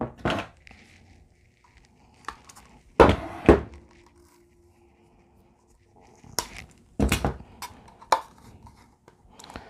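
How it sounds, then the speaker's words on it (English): Snips cut through material for a quail kill cone, giving a few sharp, crisp snaps in two short clusters with quiet pauses between. "I'm gonna snip right here."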